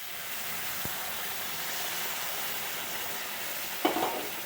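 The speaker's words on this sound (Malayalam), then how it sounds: "ഇനി നമുക്ക് ചൂടുവെള്ളം ഒഴിക്കാം" Hot water poured into a pan of freshly roasted semolina and vermicelli, giving a steady close sizzling hiss with a sharper burst of bubbling near the end.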